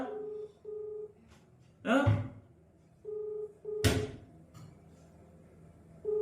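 Unanswered phone call ringing back, short repeated ring tones in a steady pattern, clear and close, broken by a couple of louder bumps and handling noises; a voice speaks briefly over it.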